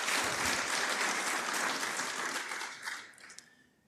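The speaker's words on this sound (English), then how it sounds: "Let us give him a round of applause." Audience applause at a university innovation week and industry summit, a dense steady wash of many hands clapping that fades out toward the end.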